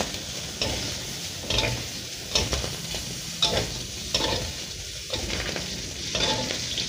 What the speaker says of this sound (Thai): ให้เราผัดลวนหมูไปเรื่อยๆนะครับ จนมีน้ำมันหมูออกมานะครับ